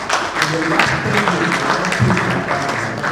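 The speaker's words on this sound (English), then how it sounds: "Give yourself a clap for that." Audience applause at an annual general meeting, a steady wash of many hands clapping that holds evenly loud throughout.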